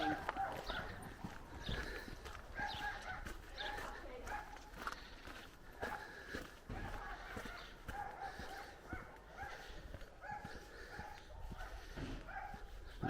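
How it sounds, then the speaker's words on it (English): Outdoors in an English border village, a dog barks intermittently at a distance while footsteps crunch along and someone talks over it. "There's a dog barking at me."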